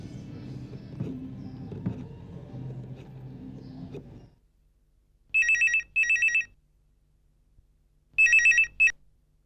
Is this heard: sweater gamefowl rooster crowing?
no